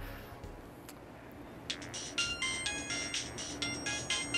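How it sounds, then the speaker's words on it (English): A mobile phone ringtone plays nearby, a rapid repeating electronic melody of bright tones that starts partway through and continues steadily to the end, with no talk over it. "I'll call your phone and see if it's around here."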